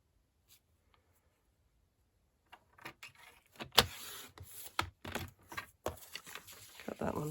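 Paper for a handmade mini junk journal being cut down to size, heard as a few seconds of silence and then a run of close, dry, scratchy cutting and rustling strokes in uneven bursts.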